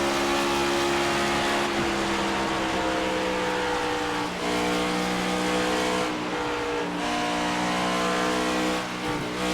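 NASCAR stock car engines roar continuously in the iRacing simulation of the Coca-Cola 600, a dense, loud droning pack of cars at high revs with no break.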